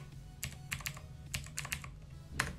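Computer keyboard typing while entering commands on a Linux server: a handful of crisp, irregular key clicks spaced across a couple of seconds, close and clear over a low background hum.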